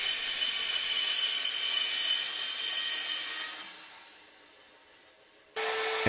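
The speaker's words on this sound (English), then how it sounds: "I'm using the bottom of a can of WD-40 to mark the arcs, which I then cut off with a bandsaw" A bandsaw cuts curved corners off a wooden tabletop, giving a steady close rasping whine that fades as the cut finishes, then a brief burst of blade noise at the end.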